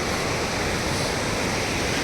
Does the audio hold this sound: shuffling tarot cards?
no